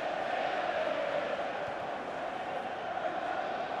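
A stadium crowd in the FIFA 15 video game keeps up a steady, distant roar of cheering at a Manchester City versus Roma match, a constant wash of noise with no distinct peaks.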